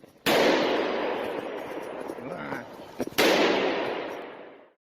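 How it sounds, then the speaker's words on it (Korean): A police officer fires at a charging wild boar inside an underground apartment car park in Busan. Two sharp, loud gunshots about three seconds apart each leave a long, booming reverberation in the enclosed space. "돌진하는 멧돼지를 피한 경찰관이 총을 쏴 사살합니다"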